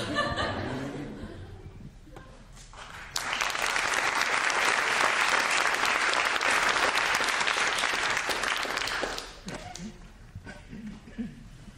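An audience at a talk breaks into loud, sustained clapping that swells suddenly, holds for several seconds, then tapers off, with a speaking voice before and after and a little laughter mixed in.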